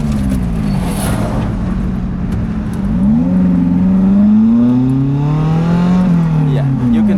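A Lotus Elise sports car driving along a bumpy country road, engine droning and rising as it revs through gear changes, steady road and wind noise underneath, with someone talking at times.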